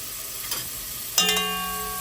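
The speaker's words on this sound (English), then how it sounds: "So now we're gonna saute the ham. This is a fresh ham." Fresh ham hits hot oil in a pan and begins to saute, giving a sudden bright sizzle that jumps in loudness midway and keeps crackling close by, after a quieter stretch of soft hissing.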